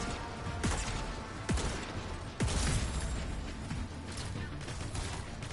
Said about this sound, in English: They're shooting the things.